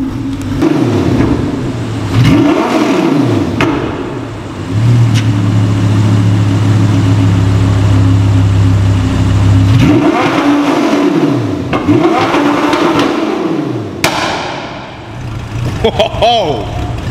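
An Audi R8 with a burble exhaust tune revs repeatedly, with rising and falling engine sweeps and crackling bursts, loud and close, while people talk over parts of it.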